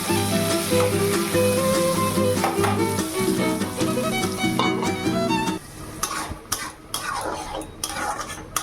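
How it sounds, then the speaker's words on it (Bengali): Brinjal slices frying in oil in a kadai make a close, steady sizzle, broken by clinks and scrapes of a utensil against the pan. "তো এখন এই যে বেগুন ভাজা চাপাবো"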